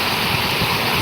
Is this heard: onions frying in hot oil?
no